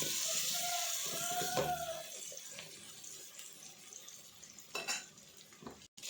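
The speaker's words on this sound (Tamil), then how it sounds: "நல்லா வதக்கி விடணும்" Gentle sizzling and frying of chili-powder masala in a pan for fish curry, with occasional stirring scrapes, steady and close, with no voices.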